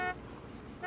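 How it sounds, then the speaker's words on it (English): A car horn outside, heard as two short toots separated by a pause and muffled through walls, over a low background hum. "that's Dean out there honking"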